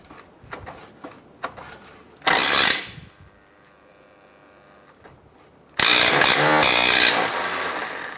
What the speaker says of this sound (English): It's going to be a 10 millimeter. We're going to see if we can get that bolt out.